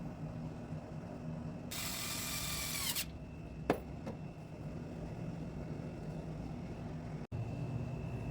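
A power drill runs in one short whirring burst, about a second long, boring bridge holes in a guitar body during a restoration. Close, with a few light clicks after it and no talk.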